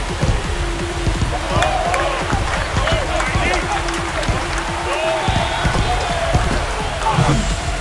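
Home crowd at a Milwaukee at Cincinnati baseball game cheering after a home run that ties the score, a loud, sustained roar and applause with a commentator talking over it throughout.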